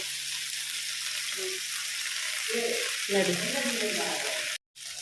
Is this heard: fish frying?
yes